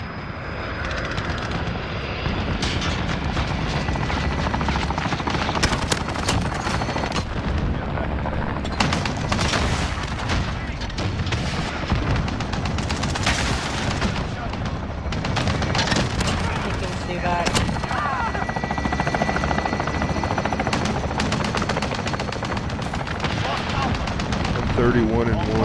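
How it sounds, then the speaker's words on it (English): An allied chopper gunner helicopter in a military video game, with a continuous aircraft engine roar and repeated loud bursts of machine-gun fire throughout, punctuated by sharp shot transients and brief game voice callouts. "Allied chopper gunner arrived at the map"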